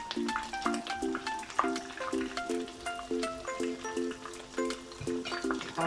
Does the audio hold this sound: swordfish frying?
yes